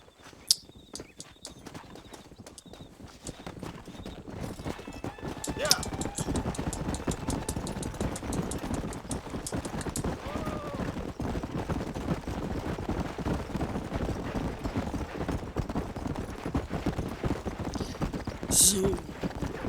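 Rhythmic hoofbeats of a galloping horse in the PC western game Red Dead Redemption pound steadily throughout, with a few sharp cracks early and a voice talking over the ride.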